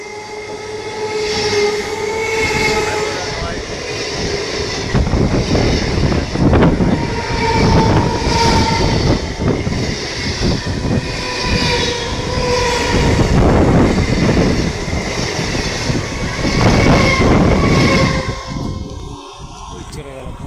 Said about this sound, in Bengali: ট্রেন যাচ্ছে এখান থেকে, ট্রেন লাইনে বসে আছি